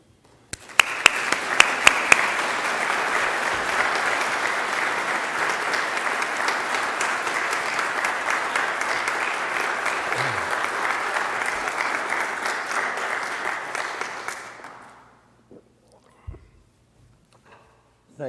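An audience at the 2016 AMBS commencement ceremony claps loudly to welcome the commencement speaker. The steady, full-room applause lasts about fourteen seconds before fading out, followed by a few faint sounds.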